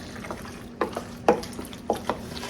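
A spoon stirs in a bowl, making a few quiet, scattered scrapes and clinks against a soft steady background.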